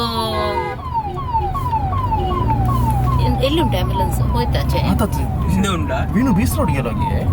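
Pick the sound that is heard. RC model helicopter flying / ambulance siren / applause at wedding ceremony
ambulance siren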